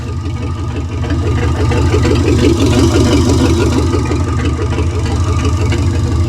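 A flathead V8 engine idles steadily while warming up on a cold day, with a lumpy, rhythmic low burble, close and moderately loud, running continuously without any talking.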